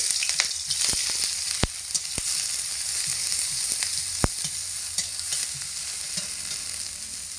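Garlic paste and chopped onion fry in hot oil, a continuous hissing sizzle heard up close with a few sharp clicks and taps of stirring, no voices over it.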